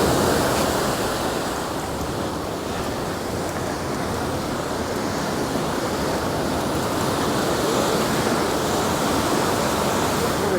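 Steady roar of surf rolling onto the La Jolla coast in San Diego near a lifeguard station, continuous broadband wash with a light wind rumble, no voices.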